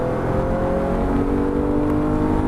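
Porsche GT3 race car engine at full throttle on the Nogaro circuit, a loud sustained high-pitched wail climbing steadily in pitch under strong wind and road rumble, heard from inside the cockpit.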